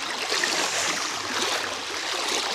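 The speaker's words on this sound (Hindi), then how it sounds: "नदी में हम लोग पार हो रहे हैं, बहुत ठंडा ठंडा लग रहा है पानी" People wade across a cold, shallow river in the early morning, producing a steady, close rush and splash of moving water with no breaks.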